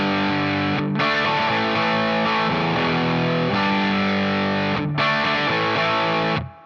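Distorted electric guitar strums ringing open chords in a hard-rock riff, loud and sustained, with two brief cut-off gaps between chord hits and no voices.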